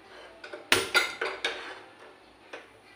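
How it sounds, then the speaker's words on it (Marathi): A metal kadhai is set down on a gas stove at the start of cooking a yellow potato curry, giving a few sharp metallic clanks and knocks close by, with no talk. "इथे मी कढई घेतली आहे"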